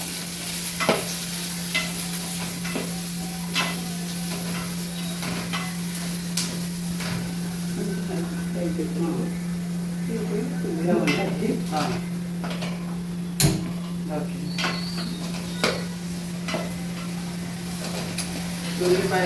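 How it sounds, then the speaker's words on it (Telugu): Onions sizzle in a pan under steady stirring with occasional utensil clinks against the pan, while a constant low hum runs beneath and a voice talks faintly at times. "రండి, ఉల్లిపాయలు వేసుకోవాలి."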